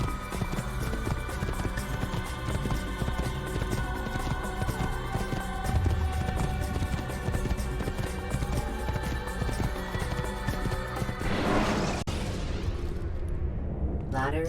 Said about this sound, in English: I've got to call my horse